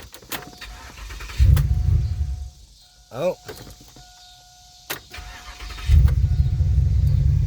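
A 2007 Pontiac Grand Prix GXP is started with the key: after a short crank the engine catches, with two loud bursts of running engine, chimes, and a person talking briefly in between.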